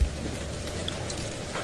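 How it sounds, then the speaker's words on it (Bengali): Animated hailstorm scene with heavy rain pouring in a steady, dense wash and faint low rumbles beneath, without voices. "শিলা বৃষ্টি শুরু হয়েছে"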